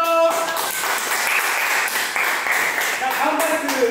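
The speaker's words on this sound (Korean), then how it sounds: "박수 한번 주세요." An audience applauds at a Korean variety show event, a brief burst of dense clapping that fills the moment at close range, with some voices mixed in.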